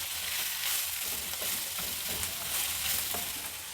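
Vegetables fry hard in a little oil over a high flame for a leftover-rice pulao, giving a steady, close crackling sizzle with occasional stirring scrapes and no voices.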